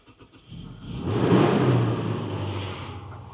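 A car engine revs up, climbing to a loud roar, then holds a steady, slightly lower growl, close by.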